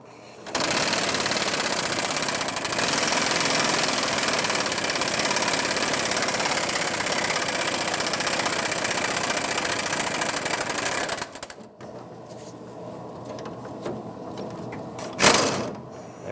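A power tool drives a 24mm socket to spin a rusty leaf spring shackle bolt on a 2003-2009 Dodge Ram 2500, giving a loud, steady mechanical whir for about eleven seconds before it stops, followed by quieter clanks.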